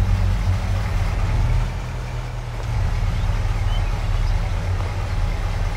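A truck engine idles steadily in Farming Simulator 22, a low, even rumble running alone through the whole stretch with a slight dip in loudness midway.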